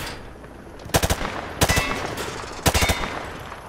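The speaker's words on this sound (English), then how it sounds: "Grab that weapon off the table and fire at the targets behind you." Automatic weapon fire at range targets in Call of Duty Modern Warfare 2 Remastered: three loud, close bursts of rapid shots, each a quick rattle of three or four rounds, separated by brief pauses.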